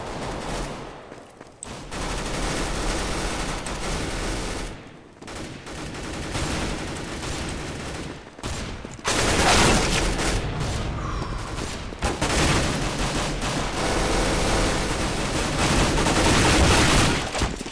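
Rapid bursts of gunfire from a Counter-Strike: Global Offensive Arms Race match, loud and nearly continuous with a few brief gaps, dense volleys of shots layered over game effects.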